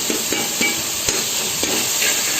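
A spoon clacks against a pot while chopped tomatoes are stirred into biryani masala for plain kushka, with irregular sharp knocks over a soft steady sizzle.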